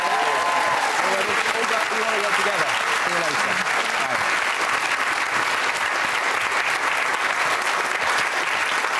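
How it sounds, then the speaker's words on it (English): A studio audience on a TV talk show applauds loudly and steadily throughout, a dense continuous clatter of clapping with a voice talking over the start. "Give them a round of applause"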